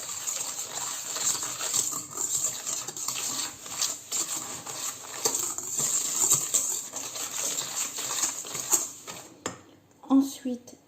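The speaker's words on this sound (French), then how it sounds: "Ensuite, le sucre. Et je commence à mélanger." Egg yolks and sugar being mixed in a bowl for a plain milk cake, with steady scraping and clinking of utensil against the bowl repeating in an uneven rhythm before a few louder knocks at the end.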